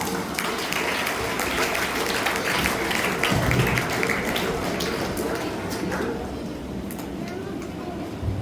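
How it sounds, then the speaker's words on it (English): An audience at a school Teachers Day celebration gives a sustained round of applause. Many hands clap in a dense, steady wash that fades slightly toward the end. "Please welcome him with a huge round of applause."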